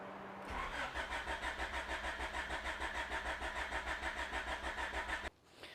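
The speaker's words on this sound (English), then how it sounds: "It's a strong crank. I'm just going to keep doing this until I get oil pressure." A Honda Prelude engine cranking on the starter to build oil pressure, a strong, even rhythmic churning at close range that runs for about five seconds and then cuts off.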